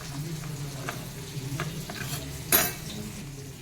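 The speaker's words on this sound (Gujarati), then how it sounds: "આ ઓલમોસ્ટ ફ્રાય થઈ ગયા છે કંટોલા આપણા તેલમાં." Fried spine gourd (kantola) is stirred into a dry spice mix in hot oil, a low sizzle under several spoon scrapes and taps against the pan, with one louder clatter partway through.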